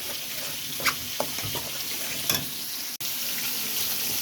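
Spice paste with chili powder sautéing in a pan for a raw banana and hilsa fish curry, a steady close sizzle with a few sharp stirring scrapes and clicks, no talk.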